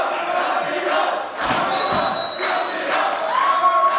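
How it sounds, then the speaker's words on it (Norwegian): A wrestling audience at the Powerslam XII event roars and chants continuously, a dense crowd din of cheers and shouts that swells and dips briefly midway before surging back. "Och hör på publikum, det här älskar den."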